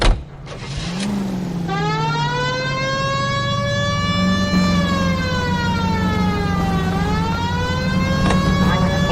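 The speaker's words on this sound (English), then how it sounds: "We have a siren." A police car siren in the video game L.A. Noire wails loud and close, one long rising and falling tone that holds steady over the whole stretch above a low engine rumble.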